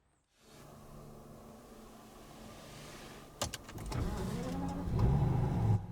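A 2022 Rolls-Royce Dawn Black Badge sits idling softly with a faint whir, then a sharp click and engine catch lead into a smooth, rising hum as the car pulls away, with no talking.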